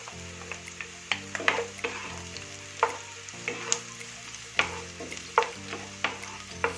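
Onion and garlic sautéing in a pan for chicken curry, a soft continuous sizzle broken by repeated sharp spatula scrapes and stirring knocks in an uneven rhythm.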